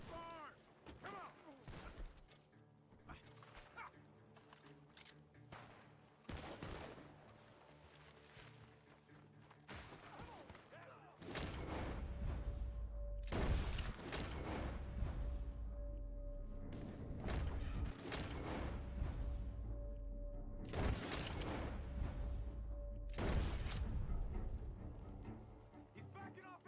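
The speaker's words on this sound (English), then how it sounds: "The gunshots are coming from that barn." Bursts of rapid gunfire in Red Dead Redemption 2 crackle repeatedly from a barn, some loud and close, others fainter, over a rumbling low background with intermittent thuds.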